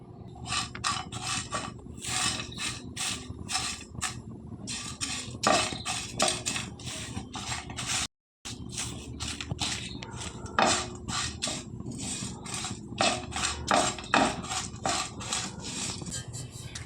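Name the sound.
dry-roasting whole spices with a bay leaf in a pan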